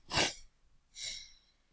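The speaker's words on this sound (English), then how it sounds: "Random sneeze, don't worry, I'm not sick." A person sneezes twice, a loud close burst and then a softer second sneeze after a short pause, with quiet in between.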